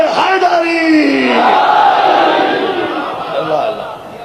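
A crowd at a majlis roars the Haideri slogan in unison, a loud massed chant of voices that rises, holds, and slowly trails off.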